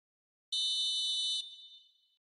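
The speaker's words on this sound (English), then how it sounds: "Whistle's gone, that's a foul." Referee's whistle for a foul in the football video game eFootball: a single shrill, steady, high-pitched blast lasting about a second, then a thinner tail fading away, clear and alone against silence.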